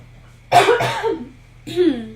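Two or three harsh, close coughs burst out, the first pair in quick succession, then one more after a short pause.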